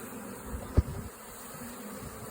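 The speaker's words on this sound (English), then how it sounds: "we're going to dump about a couple handfuls of bees" Honeybees from a Wilbanks package being dumped out by the handful into a hive box, a low steady buzz throughout with one brief thump in the middle.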